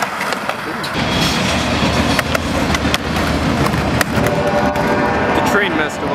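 A train rolls past a skatepark, its continuous rumble and rail clatter filling the whole stretch and loud throughout, with skateboard clacks and people talking faintly underneath.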